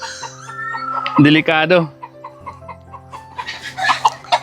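Chickens at a grandfather's old house, one bird eyeing a high perch, cluck and crow in short bursts, loud and close, with someone talking over and between the calls.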